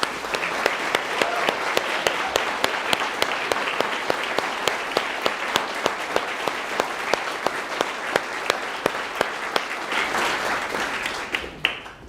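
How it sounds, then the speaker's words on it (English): Audience applause at a youth brass band Easter concert, sustained dense clapping with a few sharp individual claps standing out, tapering off near the end. "Can we all give Carrie a massive round of applause"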